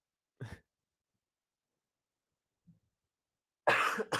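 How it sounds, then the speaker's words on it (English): Two separate coughs in otherwise quiet surroundings: a short, sharp one near the start, then a louder, harsher burst at the end, with a faint throat noise between. "great having a cough in a tiebreak"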